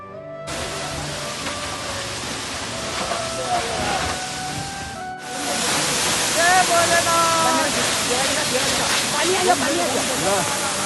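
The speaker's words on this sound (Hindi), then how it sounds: "पानी ऊपर से आ रहा।" A waterfall on the Pandavas' path, its water falling from above in a constant rushing hiss that grows louder halfway through, with people talking in the background throughout.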